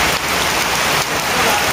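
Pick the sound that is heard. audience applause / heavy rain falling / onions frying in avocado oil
heavy rain falling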